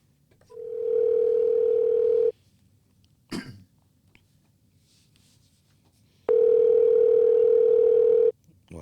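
An outgoing phone call rings out unanswered. Two long, loud, steady ringback tones sound several seconds apart, with a brief cough in the quiet gap between them.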